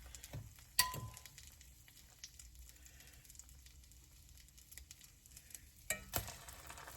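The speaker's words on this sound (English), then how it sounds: "Put it in your frying pan." Bread soaked for French toast sizzles in a frying pan with a steady, soft crackle, punctuated by a few louder clatters of handling near the start and end.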